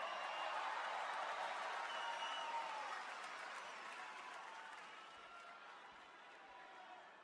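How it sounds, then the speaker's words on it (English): A wrestling arena crowd applauds loudly and continuously. The dense clapping and cheering fades a little toward the end. "Give yourselves a round of applause."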